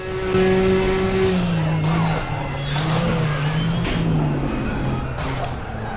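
Tires squeal and skid on a racing car under very late braking in a sim racing video game, the engine note sliding downward beneath a steady screech that fills the whole stretch.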